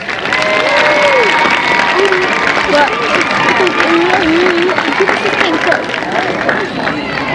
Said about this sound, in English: How about one more round of applause for all of our students?